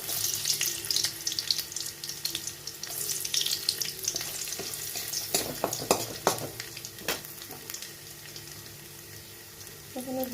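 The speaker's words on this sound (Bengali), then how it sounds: "এই কড়াইয়ের মধ্যে দিয়ে দিচ্ছি আমি রসুন কুচি" Chopped garlic fries in oil in a kadai, a bright crackling sizzle that settles into steady hiss with occasional scraping knocks of a spoon, close by, with a short voice near the end.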